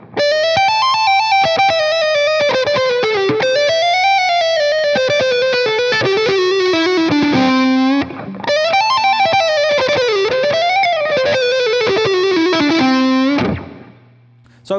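Heavily distorted electric guitar rips through a fast, technical shred lick, rapid picked notes sweeping up and down the fretboard in two long phrases with a brief break, loud and upfront with no speech.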